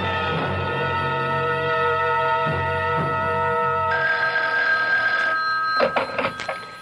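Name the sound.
telephone ringing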